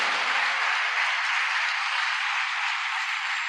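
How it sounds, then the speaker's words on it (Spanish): A church congregation applauding during a sermon, dense and continuous clapping from many hands that holds at a steady level throughout. "Palmas al Señor."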